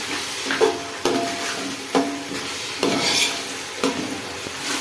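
Biryani masala with tomato paste is stirred in a hot pan, a soft sizzle beneath repeated, regular spoon strokes and knocks against the pan about once a second, with no voices.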